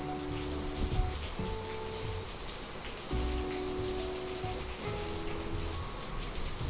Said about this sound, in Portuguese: É uma chuva bem forte e ela demora a passar.